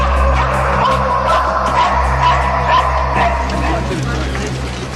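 British police sniffer dogs bark and yip in quick bursts over a low steady hum, with a voice talking over them throughout.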